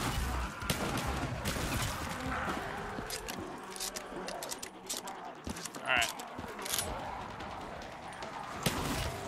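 Shotgun blasts crack sharply amid zombie combat in a Call of Duty Zombies map, with scattered reports over a busy, fairly quiet game soundscape as a player keeps talking.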